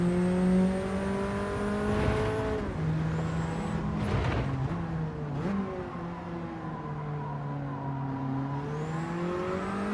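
A Cosworth race car in Gran Turismo 7 revs hard, its engine note climbing and dropping through several gear changes, a loud sustained whine with rising and falling pitch sweeps.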